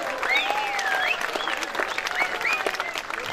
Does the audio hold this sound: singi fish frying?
no